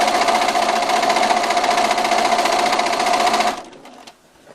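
A sewing machine runs at a steady fast pace stitching quilt binding with a flange, a loud continuous whirring buzz that stops abruptly near the end, followed by a few faint clicks.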